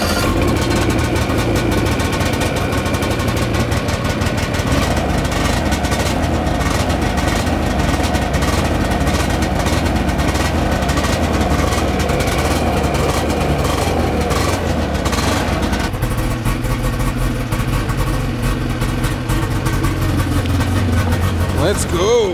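A snowmobile or motorcycle engine idles steadily after a choke start, a loud continuous low rumble that shifts slightly in pitch partway through, with a voice speaking over it.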